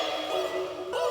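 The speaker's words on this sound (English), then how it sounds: "We got 2 sets of bells going on here" Two layered sets of bells in a beat-making program, ringing as sustained bright tones that blend together, with a fresh strike just before the end.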